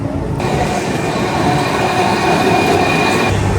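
A yellow tram rumbles past close by on a European street, loud and steady, with a constant metallic rolling hum and faint rail squeal.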